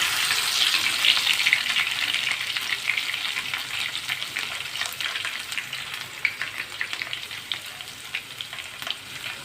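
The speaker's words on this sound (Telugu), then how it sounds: "ఇలా కచ్చా పచ్చగా దంచిన వెల్లుల్లి వేస్తున్నాను" Crushed raw garlic sizzles and fries steadily in hot oil for gongura and dried red chilli chutney, a close, continuous crackle with small pops throughout and no talking.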